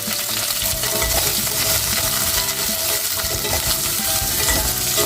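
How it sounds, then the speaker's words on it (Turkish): Onions, garlic and carrots sautéing in a pan, with a steady dense sizzle and the clink and scrape of stirring throughout, loud and close with no talking. "Soğanlarımı ekliyorum. Sarımsaklarımı da. Önce onları hafif çevireceğim arkadaşlar."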